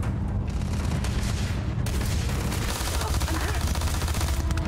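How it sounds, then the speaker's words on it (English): Gunfire during a firefight in Starfield, with pistol shots mixed into a dense, loud, continuous wash of shooting and booms that runs without a break. "Let's pull the pistol out."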